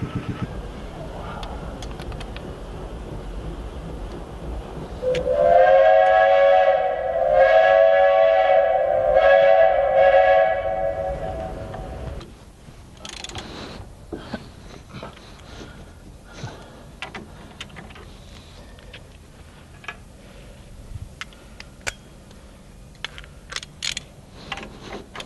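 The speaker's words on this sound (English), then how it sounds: "Let's get the other Keyway cut, and we will go put these on the machine." A milling machine cuts a keyway into a shaft that will carry a flat belt pulley. A loud, whining, tonal squeal of the cutter lasts about seven seconds, then gives way to quieter, scattered mechanical clicks and clanks.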